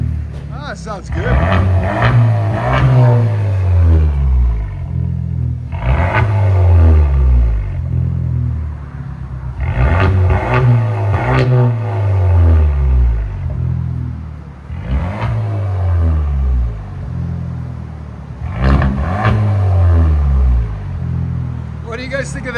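A 2016 Kia Optima SXL Turbo fitted with a NETAM NTR race muffler revs about five times in a row, each loud rising roar dropping back to a deep idle rumble, heard close up.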